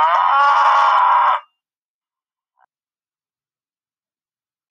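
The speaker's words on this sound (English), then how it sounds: "Cow. This is a cow." A cow lets out one loud, drawn-out moo of about a second and a half, heard up close and alone, followed by near silence.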